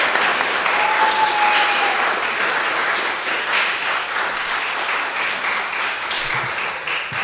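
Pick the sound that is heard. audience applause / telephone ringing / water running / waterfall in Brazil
audience applause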